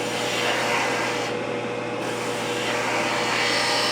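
Detail spindle gouge cutting into wood on a spinning lathe, a steady close hiss of shaving over the continuous motor hum, with no talking.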